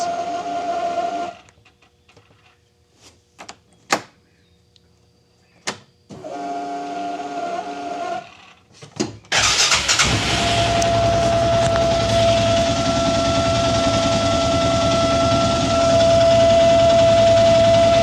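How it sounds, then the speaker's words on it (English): A failing fuel pump on an Arctic Cat Prowler runs with an intermittent whine and clicks, broken by gaps, then shifts into a louder, constant whirring drone with a steady high-pitched tone, close and alone. "Does your fuel pump sound like this?"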